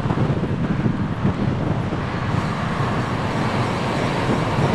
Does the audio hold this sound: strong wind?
yes